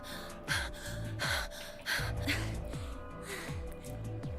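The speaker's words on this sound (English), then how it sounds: "Man, you're just panting all day" A character in the video game Virtue's Last Reward pants in repeated rhythmic gasps, loud and close, over looping game music with steady falling tones.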